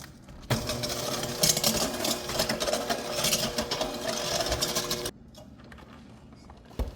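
An electric mixer whirs steadily at close range for several seconds mixing sugar for butter pecan ice cream, then switches off, leaving quiet room tone with faint clicks.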